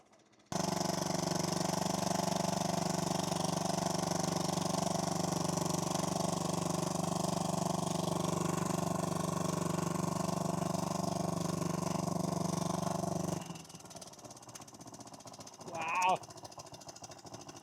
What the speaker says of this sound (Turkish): Motor da bu şekilde çalışıyor. sağlam bir şekilde.